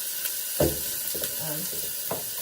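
Zucchini and vegetables sizzle and get stirred in a soup pot, a constant close frying hiss with a few scraping spoon strokes on top.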